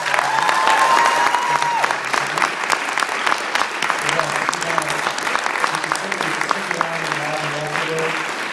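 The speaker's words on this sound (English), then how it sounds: "so everybody can give Virg a big round of applause" An audience at a film screening event gives sustained, dense applause that runs the whole way through, with a voice speaking faintly over the clapping in the second half.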